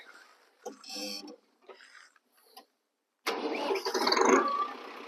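A tractor fitted with a plough cranks and fires up in the field, its engine catching abruptly into a loud, rough running clatter that holds steady after a few quiet, scattered sounds.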